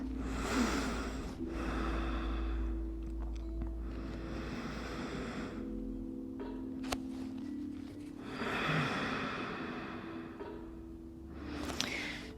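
Slow, deep breaths drawn in and let out during a Pilates child's pose stretch, two long breathy swells over a soft steady low hum, close and quiet, with no talking.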